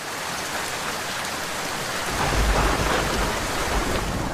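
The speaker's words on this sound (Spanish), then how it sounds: "La lluvia cae esta mañana en Catarina en la finca El Progreso" Morning rain falls steadily on a fruit and vegetable farm in Catarina, a dense, loud hiss of drops, with a low rumble of thunder swelling in partway through.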